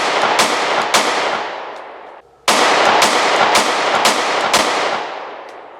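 Glock Model 30S .45 ACP pistol fires a string of sharp, loud shots with echoing tails: two shots, a brief pause, then a rapid series of about six.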